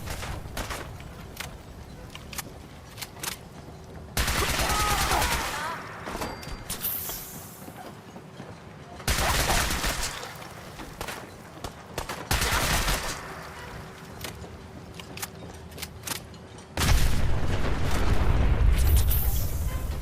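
Bursts of gunfire and heavy explosions from mini nukes in the video game Fallout 4 come in loud, dense waves separated by quieter gaps, with a rumbling boom near the end.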